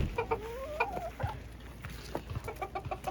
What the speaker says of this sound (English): The property currently includes a flock of chickens, which we'll release right now.